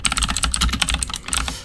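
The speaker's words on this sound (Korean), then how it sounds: "지금 방송에 이 키보드 소리가 상당히 크게 들어갈 수 있으실 텐데" Fast, loud clacking of a computer keyboard close by, with rapid keystrokes in an uneven rhythm and brief pauses.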